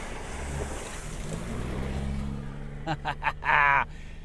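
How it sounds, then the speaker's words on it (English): A big truck fording a shallow Icelandic highland river on the F208 route, with a rushing, splashing wash of water and engine rumble that cuts off partway, then a few short bursts of voices. "you got a nice big truck coming in just to check it out"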